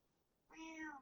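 A person imitates a cat with a single short, nasal meow lasting about half a second, faint and heard on its own.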